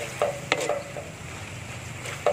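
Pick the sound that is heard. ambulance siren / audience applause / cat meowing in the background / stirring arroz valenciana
stirring arroz valenciana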